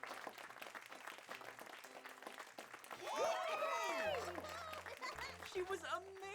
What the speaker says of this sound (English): Everybody, clap for Tabby!